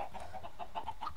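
Minecraft chickens cluck in a quick, soft series of short repeated clucks, fairly faint and without talk.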